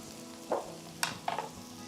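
Chicken pieces and vegetables fry in a hot pan for a Chinese-style rice dish made with five-spice masala, with a low steady sizzle and a few short bursts as food is added and tossed, no talking.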